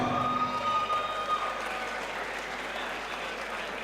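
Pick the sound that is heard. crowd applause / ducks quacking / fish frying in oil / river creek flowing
crowd applause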